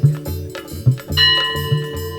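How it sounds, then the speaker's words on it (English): A temple bell, or ghanta, rings during a Shiv Raatri puja. A clear metallic tone with lingering overtones rises from under a low hum and rhythmic background sound and sustains to the end. "Can you just hit that bell?"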